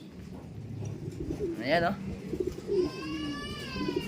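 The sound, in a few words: pigeons cooing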